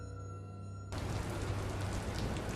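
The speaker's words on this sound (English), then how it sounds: "Rain was falling over Tokyo." Rain falls over a city street in Tokyo, a sudden onset of broad, even hiss that stays steady and fairly loud after a quieter tonal opening.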